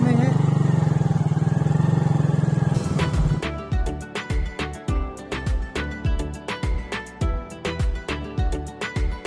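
A motorcycle rides along a road, its engine droning steadily and then pulsing in rhythmic bursts as it moves, loud and close throughout with no clear talk.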